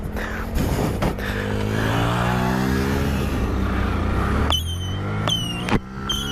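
Motorcycle engine roaring loudly and steadily as it closes in during a firework jousting stunt, its harmonic whine shifting in pitch, with sharp firework pops and whistles bursting over it near the end.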